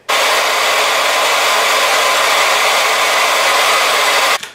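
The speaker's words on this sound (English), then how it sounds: "I'm going to take my blow dryer now just so it can dry" A hair dryer blows to dry glue, a loud, steady, close rush of air running for about four seconds before it is switched off abruptly.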